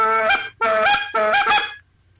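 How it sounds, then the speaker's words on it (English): A goose flute call, a fixed-tone hybrid game call, blows three loud honking goose notes in quick succession, each rising and breaking, with no one talking. "this call is more or less along the lines of the goose flute"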